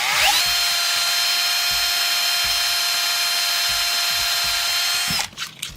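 A power drill whines loud and close with a steady high motor tone as it bores a hole in cardboard for a cardboard model build, then cuts off abruptly near the end.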